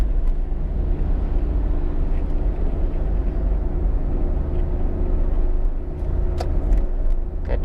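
A big truck on the road ahead gives a steady, close engine rumble with constant road noise and no talking.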